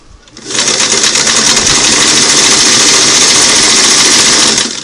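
A Singer Model 338 sewing machine runs a zigzag stitch through six layers of denim, a loud steady mechanical whir that starts after a brief pause and carries on unbroken to the end.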